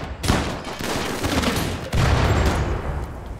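Dense gunfire in the colony game RimWorld rattles as overlapping volleys, loud and continuous, with a fresh burst surging in partway through.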